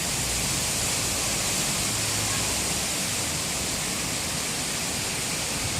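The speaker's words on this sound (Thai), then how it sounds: "ลมแรงมาก" Strong autumn wind blows outdoors among trees near a home in Metro Vancouver, a dense, unbroken roar of rushing air and rustling leaves that stays loud throughout.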